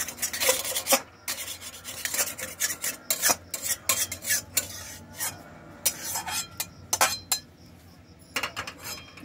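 Spatula scraping and clinking in a pan as fried crumbled egg is mixed into tarka, with repeated rasping strokes in irregular bursts, fairly close and alone.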